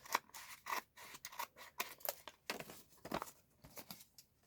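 Scissors snipping through paper envelope flaps, a quick series of crisp, close cuts in an irregular rhythm with short pauses between them, quiet and without talk.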